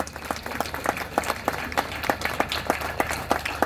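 An audience at a Marathi public gathering claps in a steady, rhythmic beat, the claps close and regular throughout over a faint room hum.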